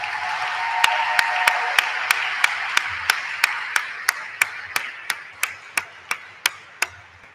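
An awards-ceremony audience applauds faculty and staff with a steady wash of clapping under a sharp, evenly spaced rhythmic clap that keeps time for several seconds.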